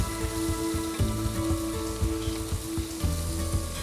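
Kidney sizzles as it goes into a hot pan to fry in a restaurant kitchen, a loud, dense crackle with steady hiss and tonal hum beneath, rain-like and close.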